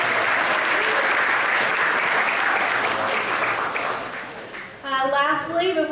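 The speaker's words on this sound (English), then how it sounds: "So let's give a round of applause for our support system." Sustained applause from a graduation ceremony audience honoring the graduates' support system, a dense steady roar of many hands that fades near the end as a speaking voice takes over.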